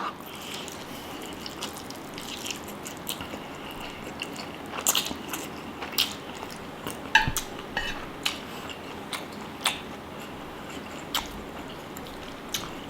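Close, wet chewing and slurping of jajangmyeon black-bean noodles topped with a fried egg, with occasional cutlery taps against a dish, steady and intimate with no talk.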